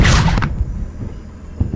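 A tank cannon fires once in the Henry Stickmin video game, a sharp loud boom at the start that decays into a low rumbling tail with a couple of faint thumps.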